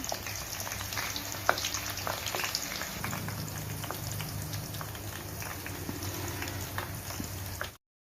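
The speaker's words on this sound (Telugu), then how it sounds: "ఆయిల్ హీట్ అయిన తర్వాత పొడవుగా కట్ చేసుకున్న ఉల్లిపాయలను వేసుకుని గోల్డెన్ కలర్లోకి వచ్చేంత వరకు వేయించుకోవాలి" Long-sliced onions deep-fry in hot oil until golden, a continuous soft bubbling sizzle with scattered crackles at moderate distance, with no talking.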